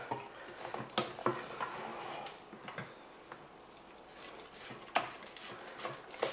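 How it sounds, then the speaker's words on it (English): Vanilla cake batter being scraped with a spatula in a mixing bowl: quiet, close scraping and soft tapping knocks against the bowl, arriving in irregular bursts with brief pauses between strokes. "I'm going to stop and scrape early on in that process."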